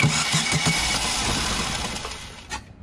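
A Chevy engine that has no oil pressure cranks with a few quick starter pulses, catches, and then runs with a rough, close, throaty rumble before a sharp knock near the end.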